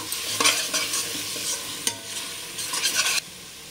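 A spoon stirring a tomato and rice mixture in a hot frying pan, with repeated scraping sweeps over a soft, steady sizzle, heard up close with no talking.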